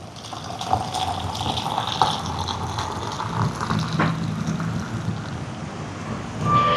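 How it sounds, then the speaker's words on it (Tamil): Water pouring steadily into a bowl of puttu flour, a mix of steamed flour and rice flour seasoned with salt, a close, continuous splashing gush with no voices. "தேவையான அளவு உப்பு சேர்த்துட்டு தண்ணியை சேர்ப்போம்"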